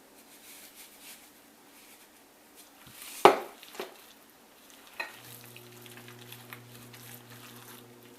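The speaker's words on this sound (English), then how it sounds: "Mix it thoroughly. Then you put a little of breadcrumbs." Stuffing is stirred together with breadcrumbs in a bowl, producing soft, close squishing and scraping strokes with one sharper knock partway through, in a quiet kitchen with a faint hum appearing toward the end.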